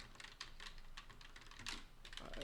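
Typing on a ROCCAT Vulcan II Max optical RGB gaming keyboard, a steady run of soft, quiet keystroke clicks at a brisk, slightly uneven pace, close and alone without talk.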